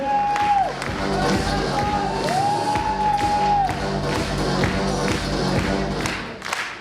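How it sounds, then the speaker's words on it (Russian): Audience at a university KVN comedy final cheers and applauds loudly and steadily, a dense crowd roar with whoops and clapping that carries through the whole stretch before tapering off. "еще раз громко аплодисменты"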